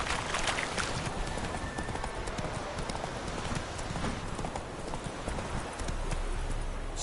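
Roach the horse gallops in The Witcher 3, hooves pounding in a fast, continuous rhythm close by over a steady wash of ambient game noise.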